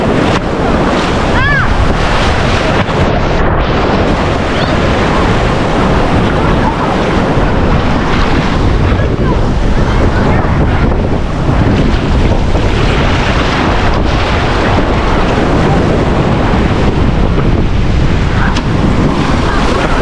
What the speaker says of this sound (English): Yo, these waves are strong.